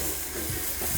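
Vegetables sweating in a little butter in a pan for a curried sweet potato and red apple soup, a steady loud broadband hiss and sizzle throughout.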